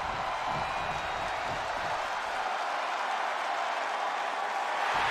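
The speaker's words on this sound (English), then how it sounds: "The sound of this crowd is deafening, and he's asking for more." Virtual wrestling arena crowd in the video game WWE 2K22 roars steadily, a dense, loud wash of cheering and applause that holds without break throughout.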